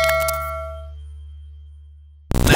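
A single bright notification bell ding rings out clearly and fades slowly over about two seconds, followed by a short, loud noisy burst at the very end.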